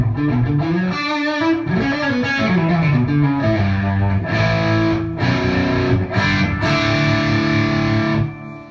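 Distorted electric guitar through a TC Electronic G System reverb effect plays a series of chords and notes with a spacious reverb tail, ringing out before fading at the end.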